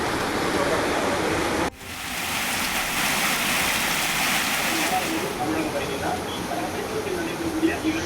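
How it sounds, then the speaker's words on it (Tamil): Floodwater from a breached stream surges through town streets, a steady loud rushing wash throughout, briefly cut near two seconds, with faint splashing and distant noise under it. "சாலைகளில் ஆறு போல ஓடிய தண்ணீரால் வாகன ஓட்டிகள் அவதி."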